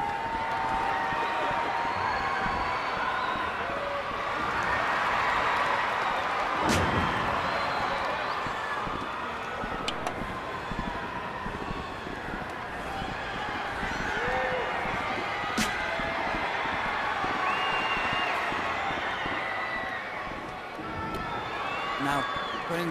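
A wrestling crowd at a death-match show swells into cheers after a collision, a loud roar that rises and falls under ongoing commentary, with sharp cracks and impacts punching through at intervals.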